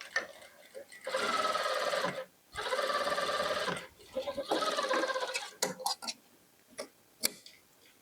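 A sewing machine stitches a kurti for a cord set in three sustained runs of steady, close whirring and ticking. Short pauses and a few sharp clicks break up the runs.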